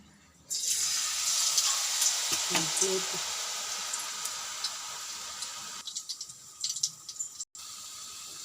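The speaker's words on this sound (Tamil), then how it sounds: "இப்போ நம்ம இதை எண்ணெயில் போட்டு பொரிக்க போகிறோம்." Potato spring rolls dropped into hot oil for deep frying, an abrupt start followed by a loud continuous sizzling hiss with crackling pops, close, briefly cutting out near the end.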